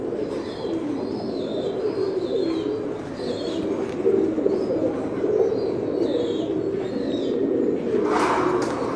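Indigo bar Mookee pigeons in a loft, soft repeated cooing in a steady low murmur throughout, with faint chirps from other birds above and a brief brighter rustle near the end; no talking.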